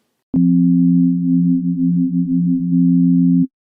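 Steady sine-wave synth note from Pro Tools PlayCell with the depth macro adding modulation, a wavering tone with slight pulsing that holds for about three seconds alone, no talk.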